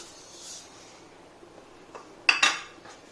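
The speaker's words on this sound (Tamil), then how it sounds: "சர்க்கரையை போட்டு கைவிடாமல் கிளறுங்க" Sugar being stirred into cooked semolina for rava kesari, a spoon scraping and clinking against the pan in a few short, close strokes near the end after quiet background.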